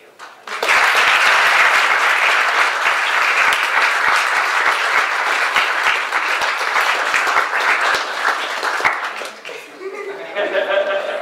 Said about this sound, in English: So a huge round of applause and thanks and much appreciation to both of you.